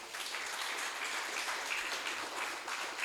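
Sustained applause from a church congregation fills the space steadily for a few seconds, dense and somewhat distant, with no clear voices over it.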